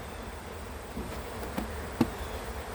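Faint, steady buzzing of honeybees at a hive being fed sugar water for winter, a continuous hum with a few soft knocks and taps over it.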